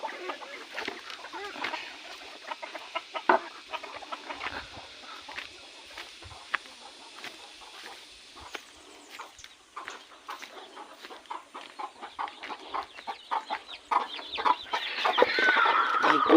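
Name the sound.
free-range chickens clucking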